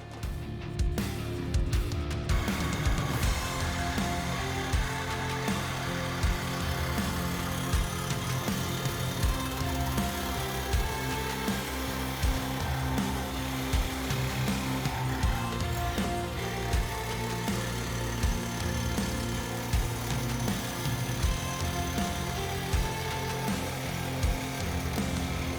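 A power tool cuts through the exhaust pipe of a 2024 Mustang during an H-pipe install, a steady loud whining drone with a sharp start and constant grinding texture throughout, no voices.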